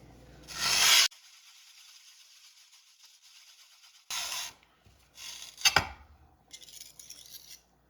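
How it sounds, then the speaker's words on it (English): Rough watercolor paint with sand particles ground under a flat glass muller on a glass plate, giving several short, close gritty scraping bursts separated by quiet pauses. "So the point is to grind these particles down as much as you can."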